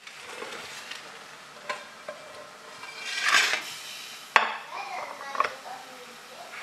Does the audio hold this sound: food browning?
yes